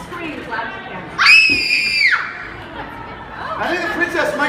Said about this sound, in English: The princess screamed loud again.